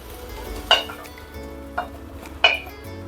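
Fried onions being tipped onto a plate for a hyacinth bean sambar: three brief clinks of a utensil against the plate stand out over a low background hum, with no talking.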